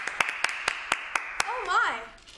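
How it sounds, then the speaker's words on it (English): About seven sharp, evenly spaced hand claps ring out in a quick steady rhythm in a secondary-school English lesson, then a voice speaks with a rising, sing-song tone. "You all deserve a big round of applause."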